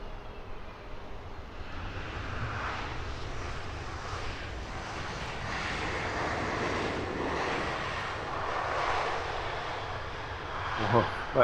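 A United Boeing 777-200ER at Heathrow, its jet engines a distant, even rumble building slowly and lingering for several seconds, with a person talking over it.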